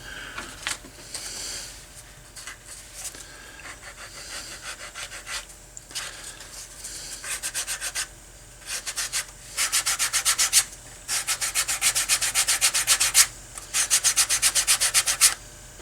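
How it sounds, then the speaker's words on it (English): Sanding a handmade leather bifold wallet by hand, with rhythmic rasping back-and-forth strokes that start quiet and sparse and grow louder and faster in steady bursts, close up. "And now it's just time for sanding."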